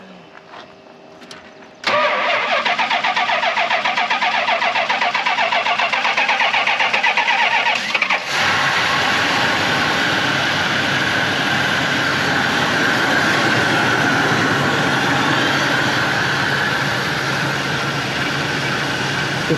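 A Chrysler wagon that sat unused for 32 years fires up after a quiet moment, its engine catching and settling into a loud, steady run, then rising to a harsher, busier note partway through. No one speaks.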